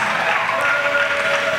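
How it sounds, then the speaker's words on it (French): Church congregation at a pastoral academy session applauding and cheering, a dense steady wash of clapping with crowd acclamation, continuous and fairly loud. "Acclamation."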